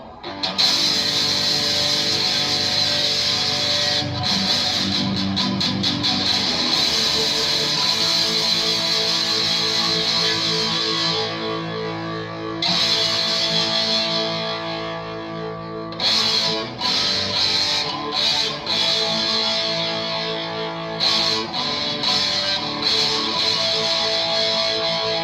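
A 2024 Gibson Les Paul Junior in Vintage Tobacco Burst rings out through distortion, loud sustained chords and notes with buzzing overtones, broken by a few short stops and restarts.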